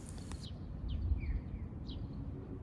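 Small birds chirp in a park on a sunny day, a few brief high calls scattered over steady low outdoor rumble and ambient noise, fairly faint and distant.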